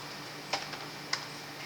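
Two faint, crisp computer keyboard key presses about half a second apart, with a lighter click between them, set against a quiet room hum.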